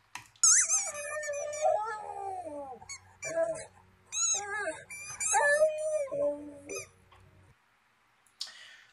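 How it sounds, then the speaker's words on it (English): A dog squeaks a toy with a sharp, high squeal, then howls and barks along in long, wavering, sing-song yowls, close and fairly loud in a quiet room. "he squeaks his toy and barks along with it like he's singing or playing or something here"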